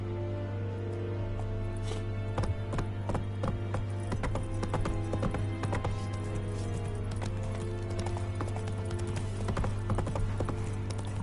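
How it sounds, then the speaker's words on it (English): A horse gallops in the video game The Witcher 3, hooves clip-clopping in a fast, steady rhythm over a continuous background of game ambience and music. "Run, Roach."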